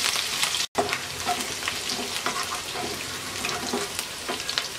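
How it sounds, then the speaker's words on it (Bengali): Chopped garlic and green chillies fry lightly in a pan for a jackfruit seed cutlet, with a continuous close sizzle and scattered soft scraping stirs, broken once by a brief dropout near the start. "এবার হালকা একটু ভেজে নেব।"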